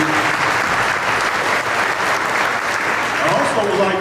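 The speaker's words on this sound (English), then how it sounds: "So let's give the Kiwanis Club a big round of applause for what they do" Sustained crowd applause for the Kiwanis Club at a community recognition event, steady and dense from start to finish with no pauses.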